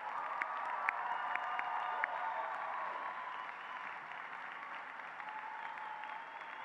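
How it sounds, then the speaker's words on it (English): A law school commencement audience gives a further round of applause, a broad, fairly distant wash of clapping with a few sharper individual claps early on, steady and unbroken throughout. "Let's give them one more round of applause."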